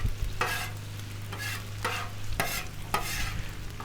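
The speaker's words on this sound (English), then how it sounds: "You can hear that rice popping." Rice and scrambled eggs fry for bacon pineapple fried rice, a steady close sizzle in the pan broken by regular scraping stirs of the spatula.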